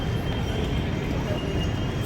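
Train rumbling at a metro station, a dense, steady roar that fills the whole stretch without letting up.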